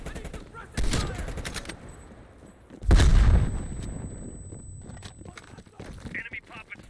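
Bursts of gunfire in Call of Duty: Black Ops Cold War, two loud heavy volleys a couple of seconds apart amid scattered distant shots and battlefield rumble.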